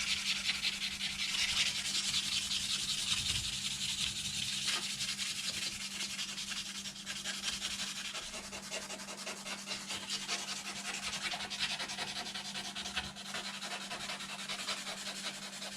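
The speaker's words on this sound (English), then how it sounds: "try to give it a little sanding." A spacer is hand sanded up close, steady scraping strokes rubbing back and forth with a faint low hum underneath, no voices.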